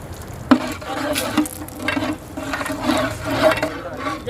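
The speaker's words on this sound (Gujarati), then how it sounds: "હવે આપણે નાખીશું જીરું, એમાં તમાલપત્ર, મીઠો લીમડો, સૂકા મરચાં નાખી દઈશું આપણે।" Cumin, bay leaf, curry leaves and dried chillies dropped into hot groundnut oil, crackling and sizzling close by with a few sharp pops and clinks as the spices hit the pan, fairly loud and without speech.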